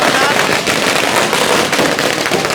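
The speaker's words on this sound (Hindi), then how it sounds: "आतिशबाजी का जोर है बीजेपी का," Dense crackling bursts of firecrackers and fireworks pop continuously, loud and close, with voices mixed in, at an election victory celebration.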